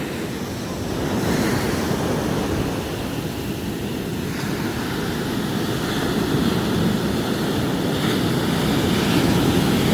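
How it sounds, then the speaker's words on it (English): Ocean waves wash continuously onto a beach, a broad steady roar of surf mixed with gusting wind buffeting the microphone, with no voices heard. "I'm just enjoying the ocean today"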